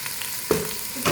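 Boiled, finely chopped chicken frying in a pan for chicken Manchurian, a brief close sizzle with a sharp scrape of stirring partway through.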